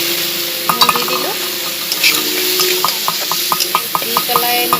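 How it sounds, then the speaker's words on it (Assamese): Turmeric and ground spices fry and crackle in a hot pan, stirred with a utensil that scrapes and taps the metal in a quick repeating rhythm over a constant close sizzle. "এনেকুৱাকৈ ভাজি ল'ব, মিক্স কৰিব এইখিনি ভালদৰে"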